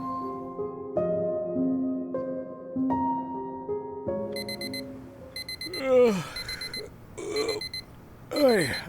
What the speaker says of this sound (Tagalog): Ang aga naman ng alarm mo.